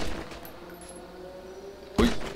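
A single sharp gunshot rings out close by in a GTA 5 zombie mod, breaking a stretch of quiet game ambience near the end.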